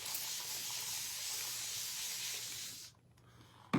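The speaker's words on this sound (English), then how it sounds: "Spray, spray, spray." A spray bottle mists a craft bow in one soft, continuous hiss lasting about three seconds before cutting off, quiet and close.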